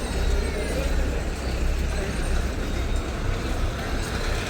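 Solapur bus pulling into Kulgeri cross bus stand, a low, rumbling diesel drone with broadband road noise, moderately loud and steady throughout.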